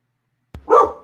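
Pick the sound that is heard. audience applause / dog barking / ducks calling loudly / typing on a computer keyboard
dog barking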